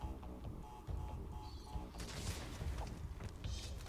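Crate explosions in the video game Crash Bandicoot Remastered, two quiet, sharp, crackling blasts about a second and a half apart following softer game sounds.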